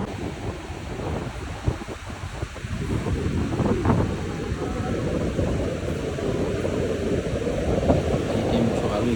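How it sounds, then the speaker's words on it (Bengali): Strong wind roars across the sea at Cox's Bazar, a steady broadband rush with surf underneath that stays loud and constant, with brief gusty peaks, throughout. "আসলে বাতাসটা খুব বেশি হচ্ছে"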